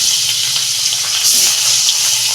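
Pabda fish frying in hot oil in a pan, giving a steady, close, broadband hiss and crackle that runs continuously without a break, with no talking over it.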